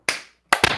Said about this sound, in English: we need to do a clap to sync audio